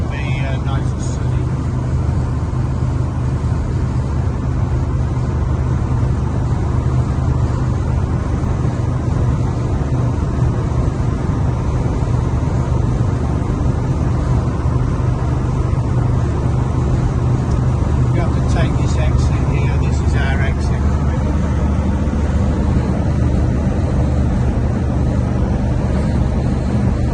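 A 1965 El Camino drives along a coastal road with a steady, loud engine and road drone inside the cab, shifting gear smoothly with no obvious jolt.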